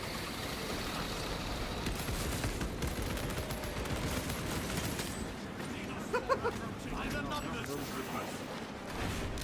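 Gunfire in the Space Marine 2 video game: continuous rattling shots and heavy combat noise, fairly quiet in the mix, with a voice talking over it.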